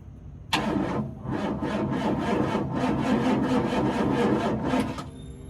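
A motor with a battery charged for a couple of days cranks over on a will-it-run attempt, a loud, close, rhythmic chugging of about ten even strokes that suddenly stops, leaving a faint whine.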